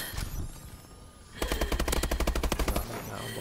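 Automatic gunfire in Call of Duty Advanced Warfare rattles out in a rapid burst of about twenty evenly spaced shots, loud and close, after a brief earlier shot and a quiet gap.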